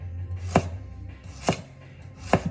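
A knife bias-cutting carrots on a cutting board: three evenly spaced, crisp chops land about a second apart, close and clear, with faint crunching between strokes and no talk.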